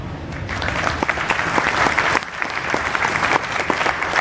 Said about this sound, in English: And the applause dies down.